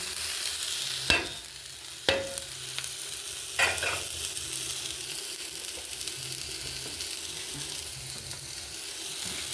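Tomato with salt and ground turmeric, chili, cumin and coriander frying in a pan, a continuous soft sizzle broken by three sharp scrapes of a spoon stirring the mixture.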